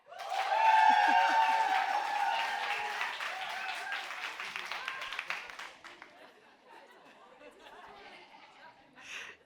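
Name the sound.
audience clapping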